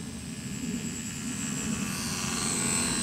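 A Flyzone Fokker D.VII micro electric RC plane flying outdoors, a steady thin motor whine over a broad rumbling wind-like wash, fairly loud and continuous with no talk.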